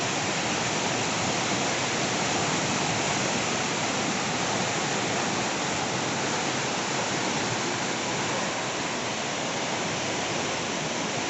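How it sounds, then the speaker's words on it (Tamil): Fast floodwater rushes past as a loud, continuous, even roar close by, steady for the whole stretch without pauses or voices. "பாருங்கள் தண்ணியோட வேகம் எந்த அளவுக்கு இருக்குது"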